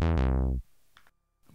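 Woovebox synth playing a short, plucky note with a quick attack and fast decay, struck twice in rapid succession then dying away within half a second, followed by near silence and faint small noises.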